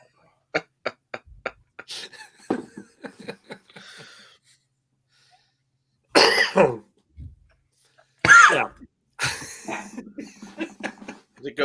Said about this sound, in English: I sort of did a sneeze and a cough at the same time